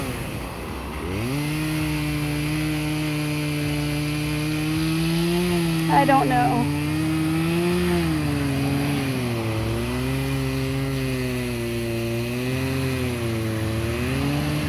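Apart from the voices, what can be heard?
small saw cutting up a big chunk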